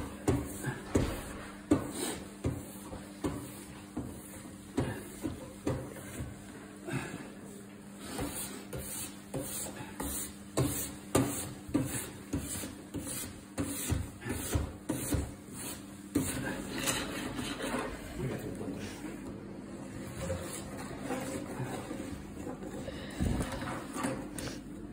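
Repeated brisk brush strokes scrub along a waxed cross-country skate ski, a steady rhythm of scratchy swishes that turn softer and denser toward the end.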